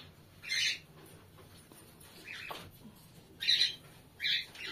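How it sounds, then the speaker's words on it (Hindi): Pet cockatiels squawk harshly while fighting, giving several short, loud, scratchy bursts close by, separated by quieter gaps. "इनमें मारपीट शुरू हो गई, टेडी सबको पीट रहा है, भगा रहा है।"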